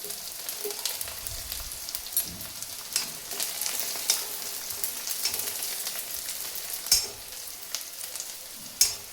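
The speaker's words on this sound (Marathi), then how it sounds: "लसण असा छान भाजून घ्यायचा आहे।" Garlic roasting in a spoonful of oil in a pan for peanut chutney, a steady close sizzle with scattered sharp pops and crackles throughout, no voices.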